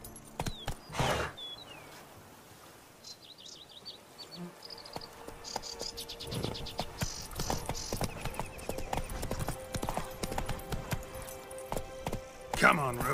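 Roach the horse from the video game The Witcher 3: Wild Hunt, heavy hoof clip-clops in rhythmic bursts with a gallop building over ambient insect chirps and buzzing, and a voice speaking briefly early on.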